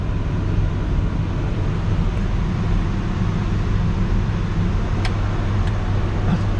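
A steady broadband whoosh of a 1966 Ford Galaxie heater fan blowing hot air, constant and fairly loud throughout, with a couple of faint clicks.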